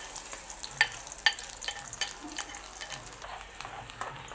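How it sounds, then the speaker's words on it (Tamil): Onions dropped into hot coconut oil sizzle quietly in a pan, a soft steady frying hiss broken by a few sharp clicks of a utensil against the pan. "அதில் அளவான தேங்காய் எண்ணெய் விடுவோம். எண்ணெய் வந்து கொதிச்சுடுது. நாங்கள் வெங்காயம் கொஞ்சமாக போடுவோம்."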